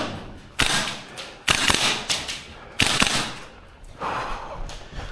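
A VFC URGI V3 gas blowback airsoft rifle fires in several sharp bursts, each a quick rattling series of close, loud cracks with mechanical clatter, separated by short pauses.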